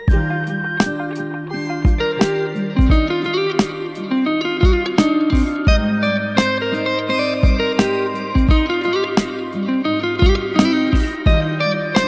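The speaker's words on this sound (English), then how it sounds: "This one is so drenched in reverb" A beat built in Ableton Live 12 plays with punchy drums and layered melodic synth parts, all soaked in heavy reverb, loud and continuous with no talking.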